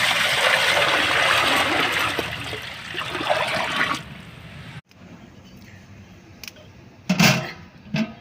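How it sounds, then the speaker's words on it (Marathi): Water coming to a boil in a big pot of roughly 8–10 litres over a wood-fired clay stove, readied for making jowar (sorghum) papad; a loud, dense bubbling and splashing fills the first four seconds, then quieter trickles and a few sharp splashes follow. "तर बघा पाण्याला उकळी आली."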